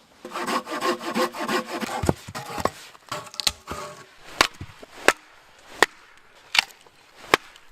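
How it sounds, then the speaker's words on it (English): Green firewood being cut with a hand saw at a fall canoe campsite: rapid rasping strokes at first, then slower, separate sharp strokes spaced out toward the end, close and clear. "Luckily, I don't need much firewood. Cut a couple pieces for myself and should be good to go."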